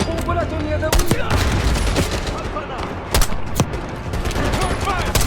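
Heavy gunfire in a Call of Duty: Black Ops firefight, with dense rapid bursts and sharp shot cracks over a constant roar of battle, with several louder reports standing out through a continuous barrage.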